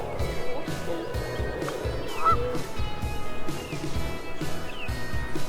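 Geese honk at a nature center pond while people feed them crackers, the calls coming through several times amid steady outdoor murmur and some nearby conversation.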